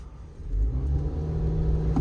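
Two Maruti Suzuki Jimny SUVs, one automatic and one manual, launch together off the line in a drag race, a loud steady low engine rumble swelling as they accelerate, with no talk over it.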